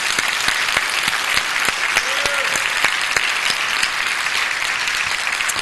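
A church congregation applauds during a Sunday service, steady dense clapping filling the room and continuing throughout at a loud, even level.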